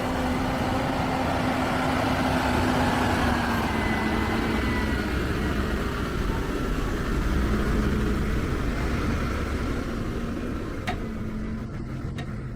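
Deep, heavy engine rumble from large Korean semi trucks squeezing past each other on a mountain switchback road, loud and steady for the whole stretch, with a low droning tone.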